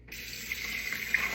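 Water streams steadily from a tap into an oat mixture for a blueberry banana oats recipe, a close continuous splashing pour lasting just over a second with no voices.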